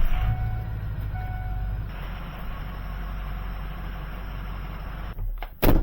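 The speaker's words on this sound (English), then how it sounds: "I think I'm going to back the truck up." A pickup truck with a cracked frame horn reverses in a shop, its engine idling loud and steady with a faint tonal beep early on, ending in a couple of sharp knocks.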